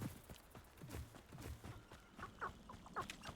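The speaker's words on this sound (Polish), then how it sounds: "Kury." Chickens clucking softly in the Hogwarts Legacy video game, with short scattered clucks among faint footstep-like taps, quiet and close with no talking.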